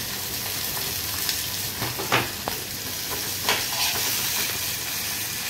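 Onion and chili hitting hot oil in a pan, with a steady close sizzle and hiss and a few brief stirring scrapes, no talking.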